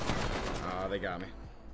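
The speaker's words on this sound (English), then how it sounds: "They're shooting at you from your portal" Rapid Apex Legends gunfire rattles in a quick automatic string, fairly close and loud, over a rumbling game background with some voice chat.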